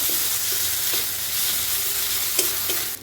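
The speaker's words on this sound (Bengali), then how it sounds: "আর এখানে দিয়ে দেবো বেটে রাখা রসুন, জিরে আর গোলমরিচের পেস্ট। এটাকে এর সাথে ভালোভাবে মিশিয়ে নেব।" Garlic, cumin and black pepper paste stirred into hot oil in a pan for a potato and egg dish, giving a steady close sizzle broken by a few sharp spatula scrapes.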